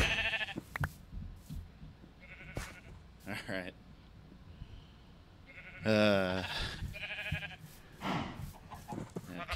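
Minecraft sheep give several wavering bleats, one loud and near in the middle, interspersed with clicks and game sounds, while someone speaks briefly.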